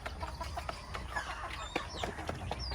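Chickens cluck in their coop on a small farm, a close, busy cluster of overlapping clucks and short calls that continues without a break.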